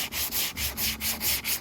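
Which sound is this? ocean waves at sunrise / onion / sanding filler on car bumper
sanding filler on car bumper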